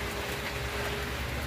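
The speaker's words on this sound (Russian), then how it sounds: "Погодка у нас дождь." Steady rain falling outdoors, a dense even hiss of drops that stays constant and moderately loud throughout with no voices.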